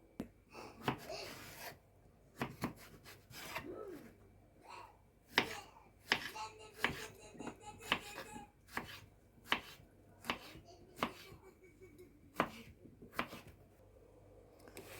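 Zucchini being chopped whole with a knife on a cutting board, a series of sharp irregular knife strikes close up with quiet gaps between them, no talking.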